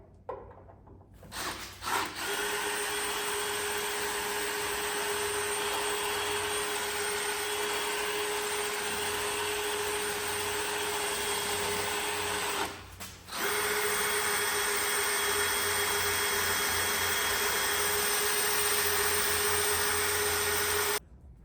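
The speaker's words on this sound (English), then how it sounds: "And we're going to try and drill it out." A power drill bores out spot welds on the chassis rail of a Mazda MX5 NB, a steady high whine that runs for about ten seconds, stops briefly, then resumes just as loud.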